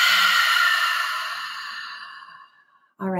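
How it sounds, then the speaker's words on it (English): A long, audible exhale through the mouth during a 4-7-8 breathing exercise for stress, a broad breathy rush that slowly fades over about three seconds, followed by a short voiced sound at the end. "Exhale through the mouth."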